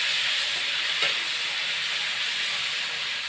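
Ginger paste with green chilli paste frying in a pan gives a steady, bright sizzle, close and even throughout, with one brief soft clink near the start.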